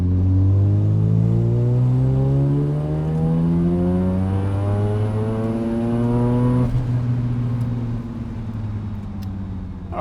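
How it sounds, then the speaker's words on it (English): Mazda FD RX7 rotary engine pulling hard at full throttle on a track, a loud steady rising drone with climbing harmonics through about seven seconds, then a sudden drop as it hits the rev limiter and backs off, with no talk. "it's going to go smoothly through to full throttle and accelerate all the way through to"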